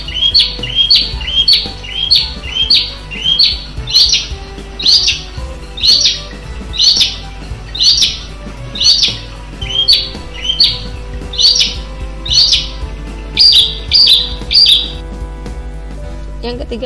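Bird calls and chirps repeat in a steady series of short, high, bright bursts roughly every second, fairly close, over a low background hum.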